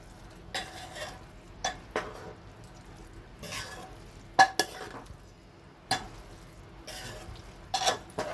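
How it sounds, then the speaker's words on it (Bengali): Vegetarian cabbage curry with ghee being stirred in a pan, intermittent scraping and clattering strokes of a spoon against metal over a faint low sizzle, spaced irregularly, with no talk. "এবার এটাকে ভালো করে নাড়াচাড়া করে দেব"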